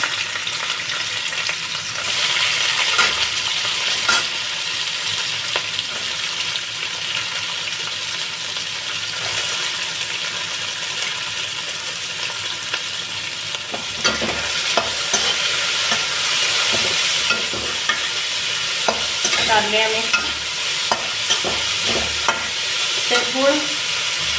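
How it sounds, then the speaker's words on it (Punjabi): Vegetables hitting hot oil give a steady, fairly loud frying sizzle that runs throughout, with stirring clatter and scrapes building in the second half and a few sharp clinks near the end; no one speaks. "ਤੇਲ ਹੋ ਗਿਆ ਗਰਮ ਹੁਣ ਪਾਈ ਦੇ ਇਹਨਾਂ ਵਿੱਚ ਪਾਵਾਂਗੇ ਇਹ ਸਬਜ਼ੀਆਂ"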